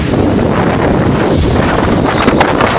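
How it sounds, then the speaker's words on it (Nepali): Strong storm wind during heavy rain in Malaysia roars and buffets loudly and continuously close to the microphone, a thick rushing noise with no voices. "हावा पनि त्यस्तै आइरहेछ हुरी बतास आइरहेछ"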